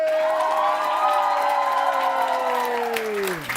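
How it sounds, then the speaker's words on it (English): Audience applause and cheering for US Olympian and businessman Buddy Lee at a live personality-academy event, a steady crowd roar held throughout with a sustained tonal sweep gliding down across it. "guys, round of applause again"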